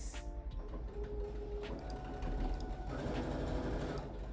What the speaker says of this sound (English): you are gonna just sew that down to keep it in place.